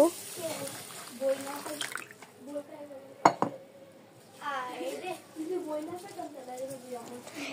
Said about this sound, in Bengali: চাল আর ডালটাকে জল দিয়ে খুব ভালো মতো ধুয়ে নেব